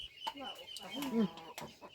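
Chickens cluck at a rural Thai farmyard lunch, short clucks and a warbling call rising near the middle, close and moderately loud, mixed with a few sharp knocks and background voices.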